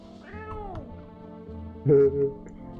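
A cat in a game gives two meows, the first a drawn-out, wavering call and the second louder and shorter after a brief pause, over a faint musical background.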